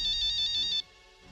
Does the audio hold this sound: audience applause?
no